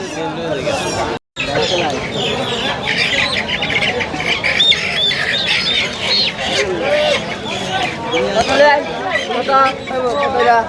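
Caged ducks and chickens, mostly roosters, at a rural Bangladeshi poultry market squawking and clucking in a dense, busy chorus close by, mixed with market chatter and voices throughout, with one brief cut near the start.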